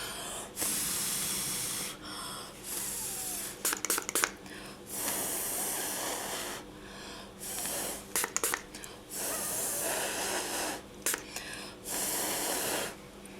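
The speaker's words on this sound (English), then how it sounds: "I like to give it a spray with the alcohol" A spray bottle of alcohol hisses in a string of short bursts over polymer clay, some single and some in quick clusters, close by with soft rustling between.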